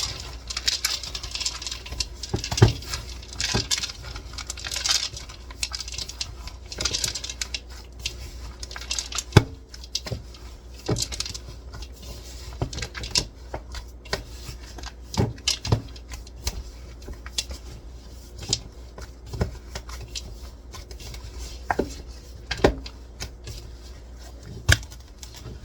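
Chocolate chips are mixed into coffee cookie dough in a bowl, giving a series of soft scraping, clinking and tapping strokes, close by and fairly quiet, with brief louder knocks scattered throughout.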